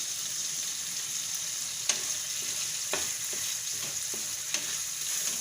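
Peanut and sesame powder stirred into vegetables frying in a pan for stuffed chibhada shaak, with a steady close sizzle and a few sharp scrapes of the spoon at intervals.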